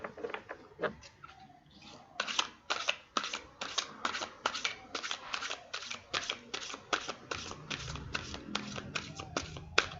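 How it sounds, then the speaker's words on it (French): Tarot cards are shuffled and drawn by hand, with a run of crisp, rapid riffling snaps in quick rhythmic bursts, close and fairly quiet, after a few scattered taps and shuffles. "Là, je vais tirer 3 cartes"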